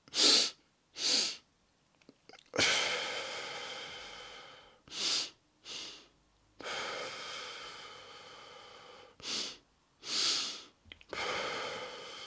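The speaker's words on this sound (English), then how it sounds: "So it's basically like a double breath in." Double inhale breathing exercise done through the nose: sharp, forceful sniffs in quick pairs, followed by long, drawn-out exhales, repeated several times close to the microphone.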